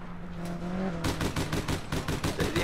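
Rapid automatic gunfire in the online shooter APB Reloaded, a dense rattling burst starting abruptly and continuing steadily to the end, fairly loud and close.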